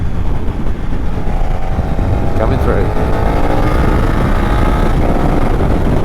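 A KTM 1290 Super Duke R motorcycle engine drones steadily while riding, its note rising slightly under heavy wind rush, with a rider briefly speaking over it.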